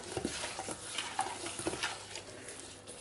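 Raw prawns being stirred with garlic and herb seasoning in a bowl, soft wet squelching and light clinks of a utensil against the dish, close and quiet, in short repeated strokes.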